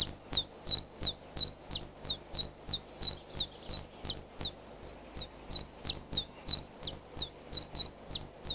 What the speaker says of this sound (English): The chiffchaff has a very recognisable repetitive phrase.